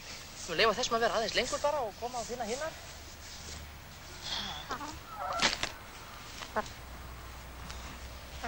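Chickens cluck outdoors in a rapid run of close, clear calls, followed by scattered softer clucks over steady background noise while someone talks.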